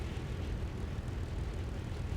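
Supermarine Spitfire engine in War Thunder, a steady low droning propeller rumble heard close and continuous as the plane slows for a landing.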